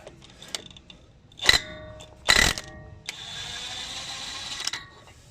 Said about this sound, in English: I got this impact gun here, and make sure we're going the right way.